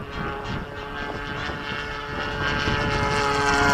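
A Freewing RC jet plane, an electric ducted-fan model, whines steadily overhead at a flying field, a continuous tonal hum that grows louder toward the end.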